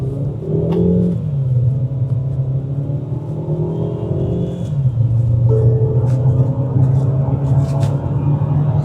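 A Tata Harrier with a 1.5 litre turbocharged petrol engine launches hard in sport mode, the engine droning low and rising through the revs with a gear change midway, loud and close from inside the cabin.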